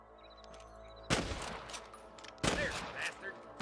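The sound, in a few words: gunfire in the video game Red Dead Redemption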